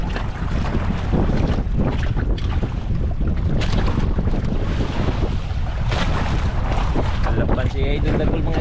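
Steady broadband roar of approaching motor boat engines mixed with wind buffeting the microphone and water noise, continuous and loud throughout.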